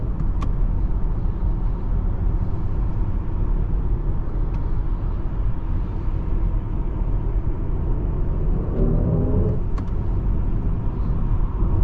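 A 2024 BMW iX 40 electric SUV driving on the road, heard from inside as a steady, loud low rumble of road and tire noise with a faint hum, continuous for the whole stretch without talking.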